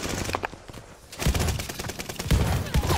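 Call of Duty: Vanguard shotgun fire on the Shipment map cracks out in several loud, sharp blasts in quick succession, close and punchy, with no talking over it.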